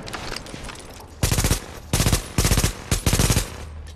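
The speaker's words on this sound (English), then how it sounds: "Come on. Hat trick headshots." Gunfire in the video game The Division: three loud, close bursts of rapid automatic shots, each lasting about half a second with short gaps between them, following a quieter stretch of faint game ambience, with no voices.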